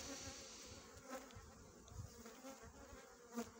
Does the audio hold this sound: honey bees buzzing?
yes